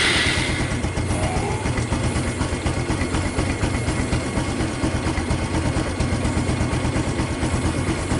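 A Honda Supra X 125 fuel-injected motorcycle engine idles steadily, a continuous close rumble with even pulsing and no talk over it.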